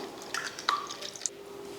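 Water poured into a tempering of spices for a Tamil vegetarian lunch, heard as a few faint, soft drips and splashes in a quiet kitchen.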